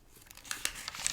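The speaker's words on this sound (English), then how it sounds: "A little page turning." Paper pages turn in a few quick rustling flips, soft and close, growing slightly louder toward the end.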